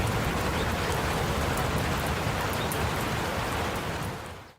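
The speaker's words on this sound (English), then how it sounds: "All I hear is raindrops falling from the rooftop." Steady, dense rain pours onto a rooftop, a loud continuous hiss of drops with no pauses before it fades at the very end.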